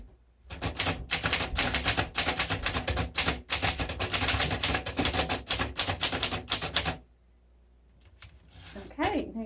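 Keys striking on a 1954 Underwood Deluxe portable typewriter, a loud, close run of rapid, uneven clacks lasting several seconds, then stopping, followed by a brief quiet stretch and a voice at the end.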